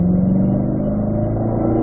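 Chevrolet Corvette C8 engine droning steadily at a race track while shifting up to fourth gear, a loud continuous mid-range hum with strong harmonics and no voices over it.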